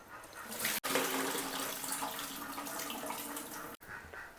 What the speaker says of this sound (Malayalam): അപ്പോൾ നല്ലപോലെ കഴുകി നമുക്ക് എടുക്കാം